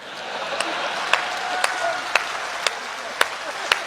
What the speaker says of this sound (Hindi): 2-3 लोग ताली बजा रहे हैं, आप भी रहने दो।